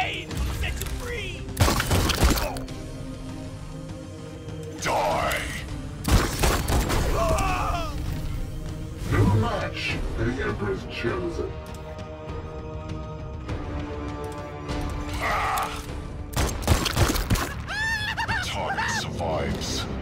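Bursts of heavy stubber machine-gun fire in the Warhammer 40,000 game Chaos Gate, several loud volleys with mechanical clanks and rattles between them.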